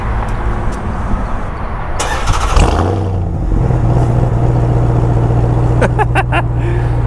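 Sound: 2021 Ram TRX pickup exhaust on remote start

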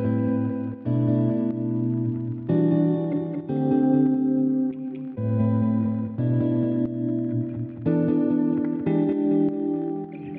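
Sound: guitar chords

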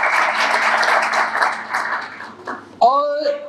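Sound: audience applause at an awards ceremony

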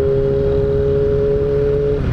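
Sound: Yamaha XJ motorcycle accelerating, engine revving

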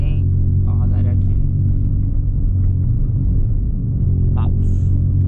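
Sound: VW up! TSI car accelerating at night

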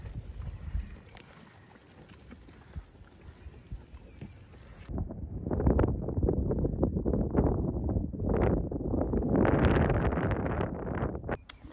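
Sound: cold wind

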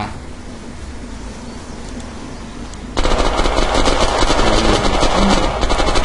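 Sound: gunfire in the video game Unturned

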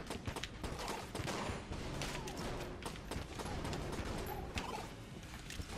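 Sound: bullets hitting the player in the video game Enter the Gungeon

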